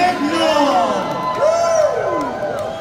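An audience at a Hari Raya show cheers and whoops for a singer-songwriter, rising and falling shouts and voices in a loud crowd swell.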